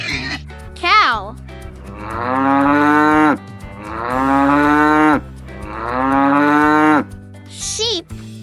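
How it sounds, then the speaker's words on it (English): A cow moos three times in long, drawn-out, loud calls, close by, with short higher squeaky sounds at the start and end. "cow"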